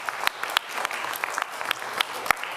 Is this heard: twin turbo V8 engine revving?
no